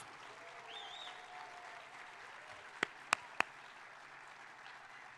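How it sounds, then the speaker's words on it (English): Scattered applause from a graduation ceremony audience honoring graduates, a soft steady patter at moderate distance, broken by three sharp nearby claps near the end. "Let's give all of our graduates a round of applause."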